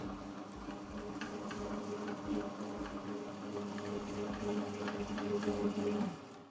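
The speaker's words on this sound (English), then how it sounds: "we'll carry on mixing this for 5 minutes" A three-speed stand mixer on second speed kneads granary bread dough, a steady low mechanical whir with a soft rhythmic churning, fairly quiet and continuous, no talking.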